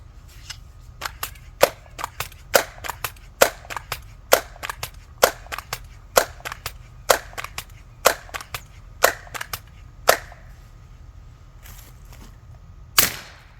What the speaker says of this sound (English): we just ran a string of 5 pellets through the chronograph